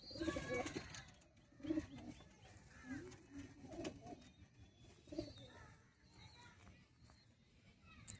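Madrasi high-flyer pigeons coo in scattered bursts, low murmuring calls rising and fading near the listener, with a person talking at times amid handling noise.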